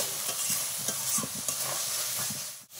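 Spice masala with turmeric and salt being stir-fried, a soft steady sizzle with repeated scraping strokes of a spatula in the pan, close and brief.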